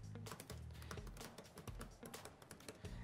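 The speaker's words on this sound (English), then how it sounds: "what you notice about this keyboard is that it's very flat, it's very loud, and it's very hard" Rapid, loud, hard clicking of typing on the flat keyboard of a 2018 Apple MacBook Pro, a dense uneven run of keystrokes heard close up with no talking.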